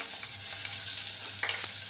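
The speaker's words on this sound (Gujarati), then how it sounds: "આપણે એમાં પહેલાં લસણ ઉમેરી દઈશું" Garlic sizzles in hot tempering oil over low gas heat, a steady close crackling fry with a few sharper pops and stirring sounds.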